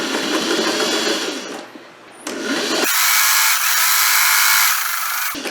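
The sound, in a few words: sewing machine back stitching fabric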